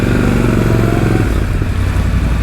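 A Triumph Scrambler XE motorcycle engine on a test ride, a loud, steady close rumble with a deep throbbing exhaust note that drops pitch slightly midway, with rushing wind noise throughout.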